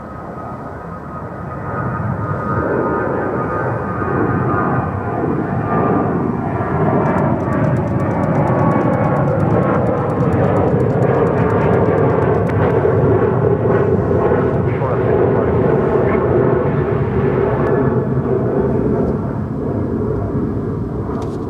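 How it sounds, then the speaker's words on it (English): An American Airlines Boeing 737-800 departs Dallas-Fort Worth airport with a loud, steady jet engine roar that builds and holds throughout, its pitch sweeping slightly as the aircraft passes. "Next departure, American Airlines flight 2659 heading to Santa Ana,"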